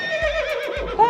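A pony gives a short wavering neigh, heard clearly and close, alone and without talk.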